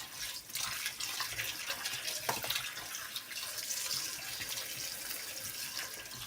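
Tomatoes and peppers are washed under a running tap in preparation for a winter tomato and pepper sauce, giving a continuous soft hiss of flowing water with faint splashes throughout.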